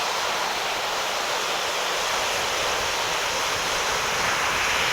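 Broad, steady wash of waves on the Lake Michigan shore, a continuous rushing surf with no breaks, loud and close, with no voices.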